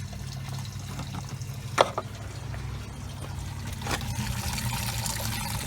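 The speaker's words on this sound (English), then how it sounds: "I'll just take the 10 minutes that it takes for this to drain" Engine coolant drains from a Mercedes ML320 W163 as a faint, steady trickling pour with a low hum beneath it and a couple of brief knocks partway through.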